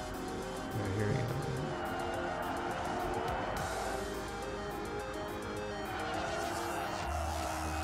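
Futuristic electric race cars in the video game Xenon Racer, a steady whirring hum of racing with brief tire squeals, played fairly quietly beneath someone talking over the gameplay.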